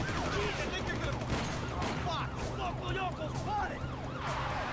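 Rapid drive-by gunfire mixed with wailing police sirens in the video game GTA V, a dense, continuous clatter of shots under swooping siren tones, with a voice speaking over it.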